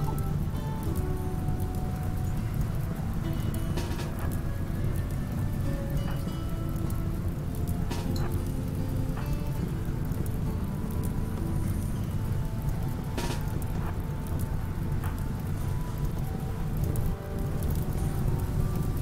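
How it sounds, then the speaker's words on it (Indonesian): Steady rain in the video game Rimworld patters continuously on surfaces, a dense even hiss with occasional sharper drops and faint low rumbling beneath, without any voices. "Untung hujan."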